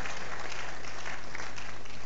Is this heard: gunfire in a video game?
no